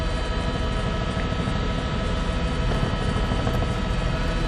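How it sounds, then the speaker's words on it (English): A steady mechanical roar with a droning hum, like a helicopter close by, continuing without pause and with no voices. "This helicopter here."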